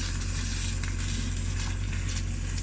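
Cheesesteak meat for omelette tacos sizzles loudly and steadily in a pan inside a food truck, with a continuous close frying hiss over a low engine or fan hum.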